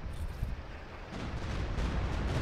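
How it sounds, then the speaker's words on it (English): Explosions and heavy battle rumble from the Company of Heroes 2 strategy game, a dense continuous low roar of blasts and gunfire that swells louder in the second half, with no speech over it. "their explosions over here, pretty much blowing up whatever they had left for a quote-unquote advance"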